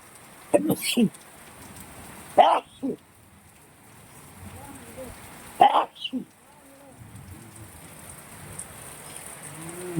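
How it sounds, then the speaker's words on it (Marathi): A sudden heavy downpour in Pune makes a steady, hissing wash of rain throughout, broken by a few short, louder bursts near the start. "अचानक पावसामुळं कस ये जोरात पाऊस आला ग माय"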